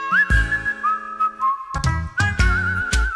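A professional whistler whistles a melodic line, clear sustained tones with smooth pitch glides and brief breaks, close and loud, with short percussive accents sounding underneath.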